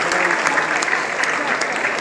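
Applause from an audience at a scientists' award ceremony in Lucknow, a steady dense wash of clapping that fills the whole moment with voices faintly mixed in.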